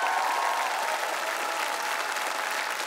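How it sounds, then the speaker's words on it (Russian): A studio audience at a TV talent show breaks into steady, dense applause, a continuous wash of many hands clapping evenly from start to finish. "Баста, друзья, ваши аплодисменты."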